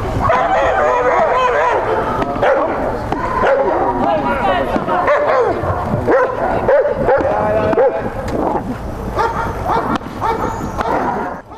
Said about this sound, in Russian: Собака на соревнованиях показывает навыки задержания.